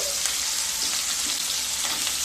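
Mixed winter vegetables with spring onion greens fry steadily in a pan as a medium carrot goes in, giving a continuous close sizzle with faint stirring and no talk.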